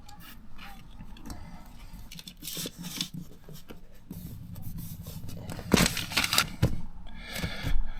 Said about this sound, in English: Just need to kind of cut that out now.